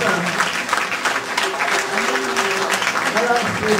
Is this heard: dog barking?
no